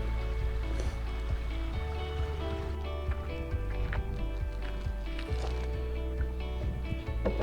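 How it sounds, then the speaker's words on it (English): A creek flows steadily beside a bike trail near Almaden Lake in fall, a continuous broadband water rush with scattered faint bird chirps and light knocks over it, fairly close and even throughout, with no talking. "just listen to the sound of the creek and voice of birds chirping"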